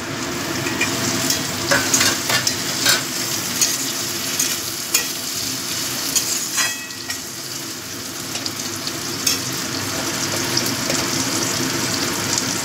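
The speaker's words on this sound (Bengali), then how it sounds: "এবার আমি এর মধ্যে দিয়ে দিচ্ছি টমেটো কুচি" Chopped tomatoes fry with softened onions in a pan, giving a continuous close sizzle and hiss broken by repeated spatula scrapes and knocks as they are stirred, with no speech.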